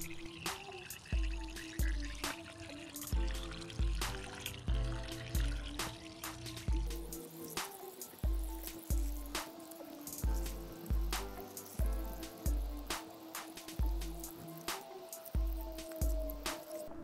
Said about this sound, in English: find a low pressure water source and water it from inside to out.